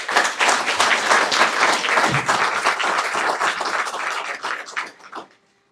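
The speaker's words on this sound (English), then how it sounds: "let's give him a big round of applause" An audience at a school district board meeting breaks into a big round of applause, full and close, holding steady for several seconds before tapering off into silence.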